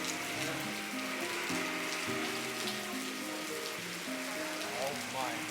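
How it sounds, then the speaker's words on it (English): Heavy rain pours down on a bikepacking trip in Portugal, a dense, constant hiss of drops on surfaces, with tonal, voice-like sounds faintly mixed in beneath it. "I'm actually getting blasted in the rain in the face. It's never rained this hard in Portugal."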